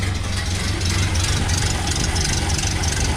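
A Ford Model A barn-find engine idles on its own power, a steady, loud, close mechanical chug with a rapid even firing rhythm and slight knock, running alone without talk.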